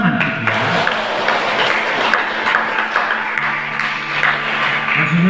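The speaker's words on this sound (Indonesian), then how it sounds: "Tepuk tangan gitu ya." Applause from a church congregation at a blessing ceremony led by a bishop in Wonosobo, a steady wash of clapping lasting throughout, with voices murmuring underneath.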